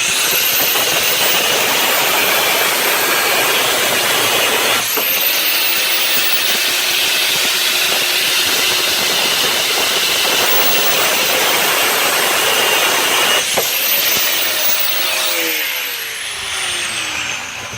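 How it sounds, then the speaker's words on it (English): Metal grinding as small bolts are cut off a budget fishing kayak: a loud, steady, harsh whine that runs almost without a break, with the tool spinning down and back up a few times. "We need to grind off these little bolts right here because they're going to get in the way of our legs."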